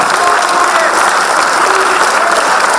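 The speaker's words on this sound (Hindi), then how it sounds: "मैं एक बार जोरदार तालियों से हम फिर वसीम साहब से गुजारिश करें" Loud, dense applause from the audience at a poetry mushaira at Jamia Millia Islamia, continuous clapping filling the whole stretch with faint crowd murmur mixed in.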